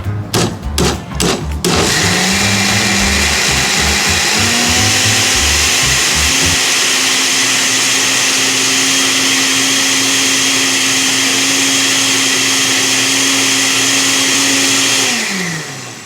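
A blender blending hot ingredients for beef barbacoa whirs loudly and steadily after a few clunky knocks and a rising motor spin-up, its high whine holding constant before cutting off.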